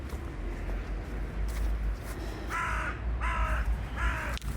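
Crows caw near a small outdoor pond where they drink, three harsh, evenly spaced calls in quick succession over a low rumbling background.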